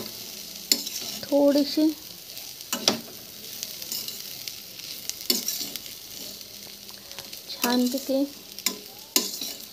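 Wild brinjal bhaji (vaghetichi) cooks in a pan with a close, steady sizzle, while a spoon scrapes and stirs in repeated strokes and someone speaks briefly over the cooking.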